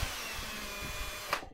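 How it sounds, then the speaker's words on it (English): A drill with an oversized bit bores into a wooden door piece while a wooden hinge is being made, giving a steady, close-up whirring grind that ends with a brief sharp burst. "I take the oversized drill bit now, and I drill the door part."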